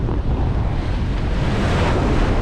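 Strong wind of 20 to 22 knots roars across the microphone over the steady wash of rough sea with 2.5 to 3 meter waves while sailing between islands, a constant loud rumble with no voices.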